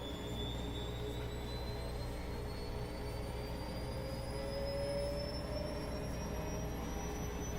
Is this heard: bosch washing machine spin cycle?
yes